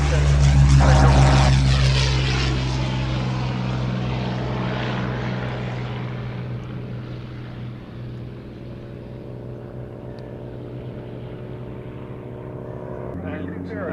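A Hawker Hurricane propeller fighter roars past at an evening airshow, loud and droning with a steady engine tone. The sound fades gradually as the aircraft moves away.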